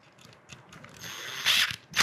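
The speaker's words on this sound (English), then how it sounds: "run these screws in real fast" Phillips screws are driven into a Saffire LX-P lock housing with a cordless driver, giving soft mechanical clicking that rises into two louder, short whirring bursts near the end, close up and with no talk.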